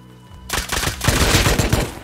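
Rapid nail gun shots from the survival game Rust, a quick run of sharp close bursts starting abruptly after a near-silent moment and continuing loudly to the end.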